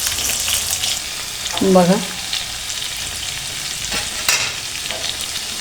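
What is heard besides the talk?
stuffed brinjal and masala frying in oil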